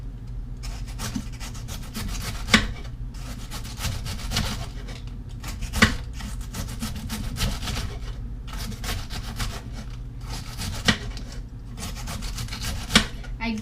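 Knife slicing a head of cabbage into thin strips for sauerkraut, with steady soft scraping and cutting strokes and a few sharper chops on the board, close by.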